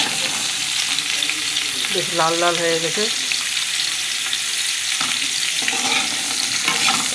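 Bori lentil dumplings and potatoes fry in oil and are stirred, giving a loud, continuous close sizzle with scraping strokes; someone speaks briefly over it.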